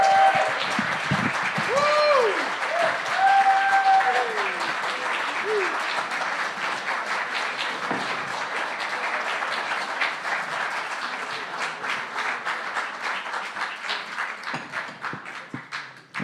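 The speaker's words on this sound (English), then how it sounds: "There's a lot of applause when we haven't even done anything yet." Audience applause fills a live folk concert at Old Songs, steady and full for about sixteen seconds, with a few voices and stray whistles mixed in near the start before the clapping gradually thins.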